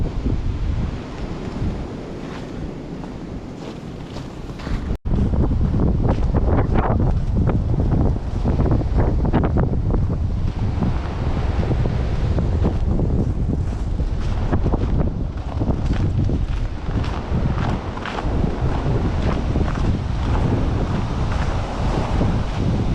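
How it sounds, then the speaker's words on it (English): Strong, cold outdoor wind roars and buffets the microphone near an unfinished sawmill shed, a constant heavy rumble with gusty surges that lasts throughout. "It's cold out here. Look at that wind."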